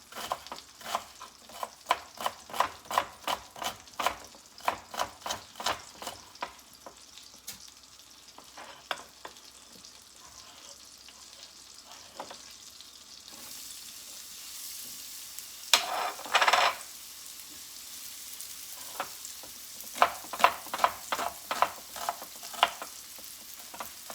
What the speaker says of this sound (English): Now when the butter is melting, it's not going to burn because you have oil in there.